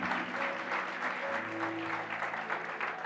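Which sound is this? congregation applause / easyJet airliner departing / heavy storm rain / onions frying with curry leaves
congregation applause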